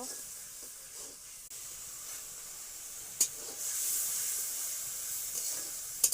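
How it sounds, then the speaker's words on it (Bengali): Spice paste with turmeric, chili powder and salt fries in a pan, giving a faint, soft sizzle and hiss with a few sharper spits and clicks of stirring close by. "এখন মশলাটা কষিয়ে নিব।"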